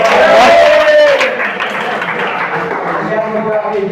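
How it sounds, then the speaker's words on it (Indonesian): A high-school chemistry class claps for a student named Torik, a loud burst of hand-clapping fading into lighter patter mixed with chatter and talking voices throughout. "Tepuk tangan buat Torik dong"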